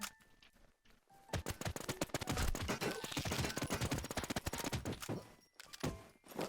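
Automatic weapons rattle in a shooting video game, long dense bursts of rapid shots crackling almost without pause, loud and steady through most of the stretch with brief gaps at the start and near the end.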